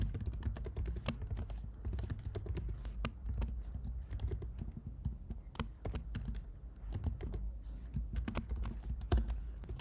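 Rapid, uneven keystrokes on a computer keyboard as code is typed, close and steady for the whole stretch with no talking.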